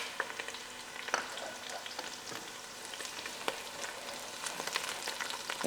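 Garlic and green chilies frying in a pan for a chicken stew, giving a soft continuous sizzle with light crackles and occasional stirring scrapes, quiet and close, with no voices.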